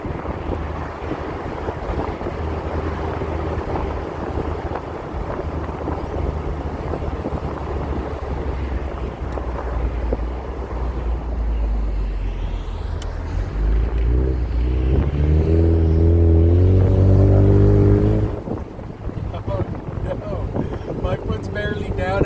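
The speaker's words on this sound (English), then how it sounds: "I'm not sure what kind of road noise I'm going to get in the convertible." A 2020 Ford Mustang EcoBoost convertible on the move gives off steady, loud wind buffeting and low road rumble. The rumble swells toward the middle and then drops back.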